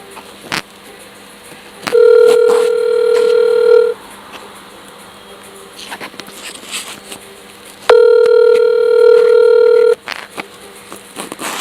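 A telephone line ringback tone, two long buzzing tone bursts about six seconds apart with quiet line noise between them, heard alone with no talking.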